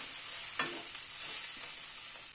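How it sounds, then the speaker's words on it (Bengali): Ground spice powder being stirred in a frying pan for a spring onion chorchori, a steady bright sizzle with one sharp scrape of the spatula and lighter stirring after. "গুঁড়ো মশলাটা দিয়ে জাস্ট একটু নাড়াচাড়া করে নিলাম।"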